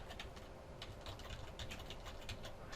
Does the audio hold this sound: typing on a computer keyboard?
yes